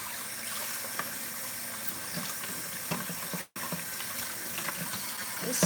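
Tap water runs steadily over the dirty tank part of a Kirby carpet shampooer being washed in a sink, a constant splashing hiss with a few brief knocks and clunks, alone with no talking.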